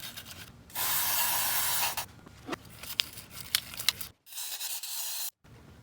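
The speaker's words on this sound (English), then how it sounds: "we're just going easy on a wire wheel, or sorry, a little wire brush there" A small wire brush scrubs carbon buildup inside the intake of an Audi Q3 engine, producing bursts of harsh scratchy rasping that start and stop, with faint clicks and quiet gaps between strokes.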